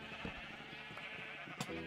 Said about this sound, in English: Oops, sorry, right in your face, sheep